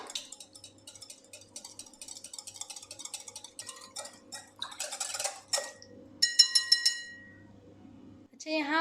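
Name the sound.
mixing eggs, milk and yogurt in a bowl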